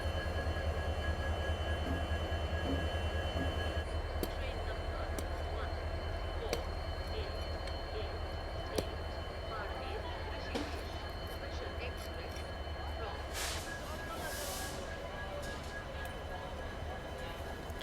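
A WAP-7 electric locomotive arrives at an Indian railway station as the new power for the rescheduled Marudhar Express, giving a steady, loud rail rumble with clanks and a brief high screech near the end, while people talk nearby.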